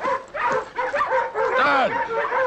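Sled dogs yipping, barking and whimpering in bursts, several animals close by with rising and falling whines, a voice briefly mixed in.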